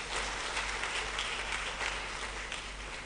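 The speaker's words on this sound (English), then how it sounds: "Another round of applause." A round of applause fills a graduation ceremony hall in Kigali, the clapping steady and somewhat distant, a soft continuous patter from a large seated crowd.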